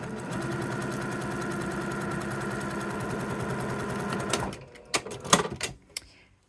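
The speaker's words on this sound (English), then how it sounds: "We just need to sew the entire length." Sewing machine stitching the full length of a quilt block seam, a steady close mechanical whir with rapid needle rhythm for about four and a half seconds, then stopping into a few scattered clicks and handling knocks.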